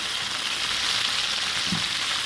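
Tomatoes and green chilies frying with cumin in hot oil, a steady, close, dense sizzle with no pauses and no voices.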